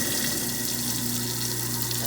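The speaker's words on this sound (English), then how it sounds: "Okay, turn the water on." Water runs steadily from a kitchen faucet into the sink of a Club Wyndham studio kitchen, a continuous even rushing hiss that carries at the same level from start to end with no voices.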